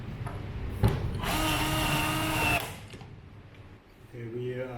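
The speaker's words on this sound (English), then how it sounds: "Screw down this one first." Power screwdriver driving a screw during TGD1X assembly, a steady high whine lasting about a second and a half after a short knock, with a person speaking briefly near the end.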